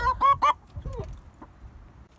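Faverolles chickens give a quick burst of three or four close, loud clucks, then quieter scattered fowl noises trail off against a low background rumble.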